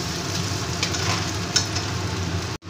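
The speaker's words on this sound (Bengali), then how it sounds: "আমি একটু ভেজে নেব।" Vegetables and egg fry together in a hot pan for egg chowmein, a loud continuous sizzle with brief stirring scrapes that cuts off abruptly near the end.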